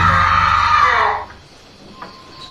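A girl screams from inside her room, one loud, sustained, high-pitched cry lasting about a second before it cuts off into near silence, followed by a faint knock.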